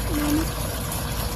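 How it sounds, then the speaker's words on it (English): Liquid chlorine trickles and splashes steadily into a swimming pool, a continuous close watery hiss and dribble with a faint tone near the start. "I give it a couple little splashes in there"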